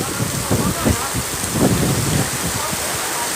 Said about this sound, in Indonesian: Hujan angin, hujan badai.